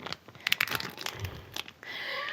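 A plastic bag crinkles and rustles close up as food is pulled out of it to go on a grill, a run of brief irregular crackles and scrapes that trails into a steady hiss.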